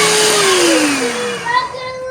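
An electric beater mixes banana cake batter in a bowl with a loud, close motor whine whose pitch slides down as it slows and then winds off.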